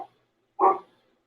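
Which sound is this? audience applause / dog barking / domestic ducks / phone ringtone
dog barking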